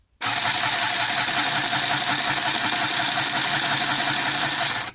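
A mini sewing machine stitches for scrapbooking in one steady, loud, even whirring run that starts abruptly and stops just as sharply about five seconds later, with no talk over it.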